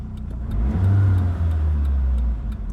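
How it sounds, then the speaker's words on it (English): A 1992 Isuzu Gemini Irmscher R Turbo engine revs up sharply and holds a loud, steady rumble for a couple of seconds before easing off, heard close with no talk. "You can see revs up very quickly."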